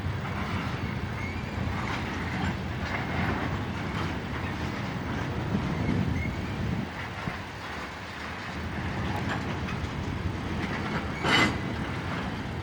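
A long BNSF freight train of tank cars rumbles past at Piscataway, a steady broad roar with rolling wheel noise that swells and eases, and a brief sharp squeal near the end.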